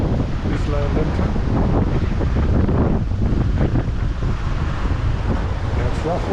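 Rough sea surf and strong wind at Isla Linton bay on Panama's Caribbean coast, a steady loud roar with wind buffeting the microphone throughout, heard from a sailboat.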